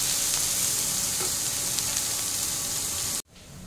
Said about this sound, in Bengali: তো কিছুক্ষণ আমার পেঁয়াজটা ভাজা হবে